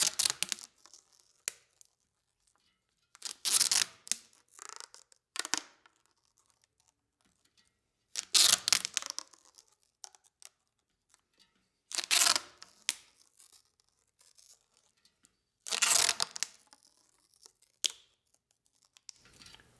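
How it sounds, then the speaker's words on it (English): Tubeless rim tape pulled and pressed around a bicycle rim, several sharp sticky peeling and tearing bursts spaced a few seconds apart, close and clear with quiet gaps between. "Make sure the tape doesn't creep up the sidewalls as you make your way all the way around the rim."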